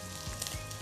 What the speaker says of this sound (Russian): это у нас пусть жарится жирочек.